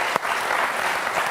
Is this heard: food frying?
no